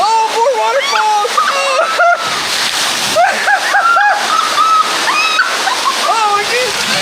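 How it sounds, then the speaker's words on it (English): Water splashes and rushes steadily as a water park ride at Typhoon Lagoon passes through waterfalls, with excited voices talking over it almost the whole time. "Oh, more waterfalls."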